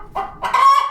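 Chickens clucking at close range, a short burst of raised, excited calls that swell into a louder sustained squawk, with no talk over them.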